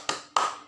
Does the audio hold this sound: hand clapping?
yes